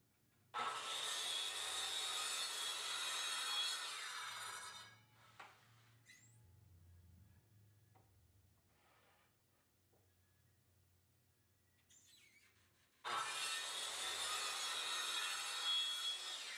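A jointer or saw machining the rough sawn edge of a mahogany board on an EZ-One woodworking center, loud steady cutting for about four seconds, a quieter gap with low machine hum and small shop noises, then another long loud cutting pass.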